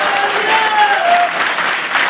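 Loud, dense applause from an audience honouring the MD at a company moral training event in India, a steady wash of clapping throughout.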